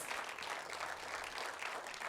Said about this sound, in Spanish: Den un fuerte aplauso al Rey, del Príncipe de Paz.